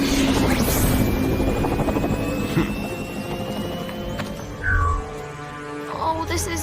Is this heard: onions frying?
no